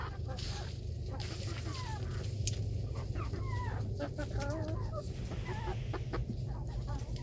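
Backyard flock of hens, pullets and roosters clucking and calling continuously nearby, overlapping vocalizations with occasional sharper squawks against steady outdoor background.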